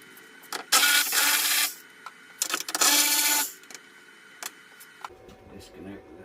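A ratchet loosens a 10mm fan shroud bolt on a 5.7-liter Toyota Tundra in two loud, rasping bursts of about a second each. Brief clicks and handling noises follow.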